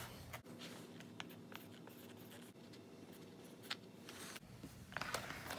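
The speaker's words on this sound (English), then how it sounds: "Now I'm just going to write on the top of these what it is, what to bake it at, and the date." A marker writes labels across the tops of sealed, pre-made peach cobbler containers, a faint, steady scratching close by with a few sharper taps, and no talk.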